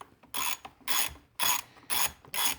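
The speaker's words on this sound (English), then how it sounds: "So I had to go up to a 3/4 inch wrench to have a socket." A ratchet wrench turns a 10 mm socket on a 2021 Jeep Wrangler JL battery terminal, giving five evenly spaced bursts of quick, close clicking with short pauses between strokes.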